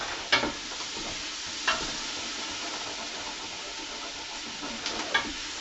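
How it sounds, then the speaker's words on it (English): Onions fry in about a tablespoon and a half of olive oil while preparing spaghetti sauce, giving a steady close hiss of sizzling. A few sharp utensil clacks stir the pan, with no voices. "Get the onions going."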